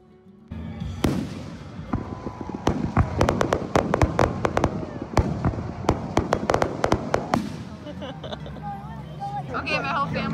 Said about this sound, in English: We're going to the fireworks